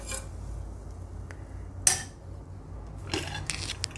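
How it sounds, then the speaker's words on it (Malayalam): Horse gram with water in a pot for Kerala-style muthira chena erissery is stirred with a utensil, making a few faint scrapes and clinks with one sharper knock near the middle and a busier scraping stretch toward the end. "ഇനി നന്നായിട്ടൊന്ന് മിക്സാക്കി എടുക്കാം."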